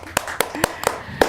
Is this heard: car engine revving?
no